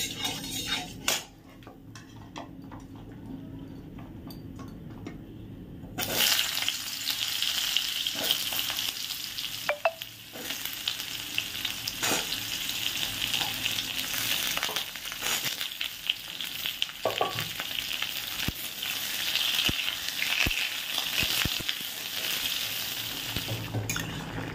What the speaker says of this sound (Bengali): চলো এবার এই কড়াইটা যেহেতু তেল তেল রয়েছে, এর মধ্যেই হচ্ছে এইগুলোকে ভেজে নেব